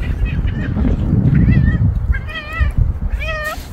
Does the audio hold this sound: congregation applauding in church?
no